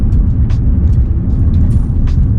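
A taxi car driving through Odesa heard from inside the cabin, with a loud, steady low engine and road rumble and a few faint higher noises over it.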